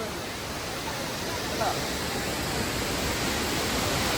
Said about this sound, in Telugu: లాస్ట్ వ్యూ పాయింట్ అద్భుతమైన వాటర్ ఫాల్స్